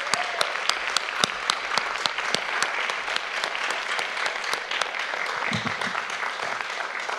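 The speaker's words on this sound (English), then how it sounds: "Let's have another big round of applause for our poets." Sustained applause from an audience at a middle school young writers' evening, loud and steady with dense clapping throughout and no talk over it.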